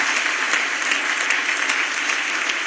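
A church congregation claps their hands during a sermon, producing dense, continuous applause from many people that stays loud and steady throughout, with no clear voices.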